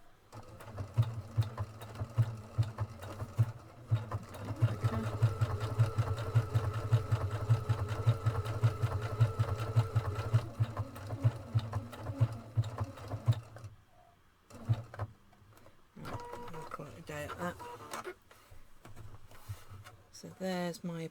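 A Pfaff Creative 1.5 sewing machine stitches an applique with a steady, fast mechanical whir for about fourteen seconds, then stops and starts in short bursts, with faint talk near the end.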